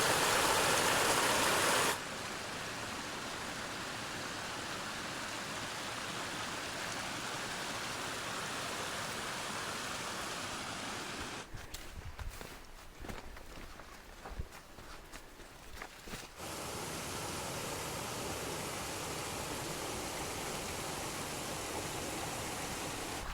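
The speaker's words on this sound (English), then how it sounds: "Just another beautiful stream." A mountain stream flows steadily along a hiking trail, a continuous broadband rush of water that stays close and fairly loud, briefly dipping and sputtering midway before the even flow resumes.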